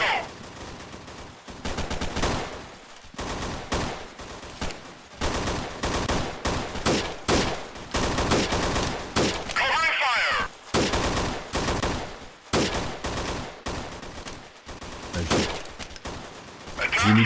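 Dense volleys of gunfire from the video game Freeman: Guerrilla Warfare, with rapid automatic bursts and single shots crackling almost continuously, loud and close, broken by brief pauses.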